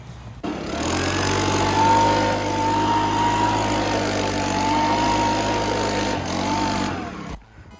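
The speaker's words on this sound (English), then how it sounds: "I'm going to use my leaf blower down here and just clear some of the dust up." A steady, loud motorized whine and roar runs for several seconds after a quick start, then cuts off abruptly, like a leaf blower close by.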